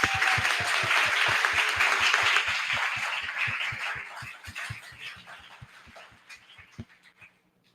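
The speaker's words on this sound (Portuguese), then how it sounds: "eu queria pedir uma salva de palmas para a Uninasal" Applause from an audience at a public-communication talk in Brazil, thanking a university; a burst of clapping fades gradually into scattered, thinning claps, accompanied by steady rhythmic thumps and a faint tone.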